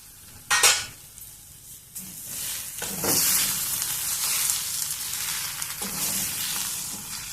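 Potato curry cooks and gets stirred in a pan over a low flame, a steady soft sizzle broken by several brief scraping stirs and clinks of the utensil against the pan.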